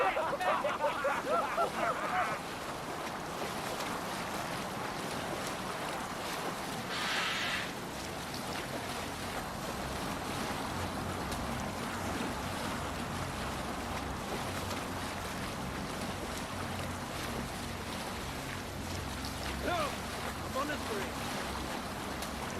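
A sailing longship moves over open sea in Assassin's Creed Valhalla, with a continuous wash of waves and wind, creaking and splashing beneath a voice that talks briefly at the start, steady and fairly quiet throughout.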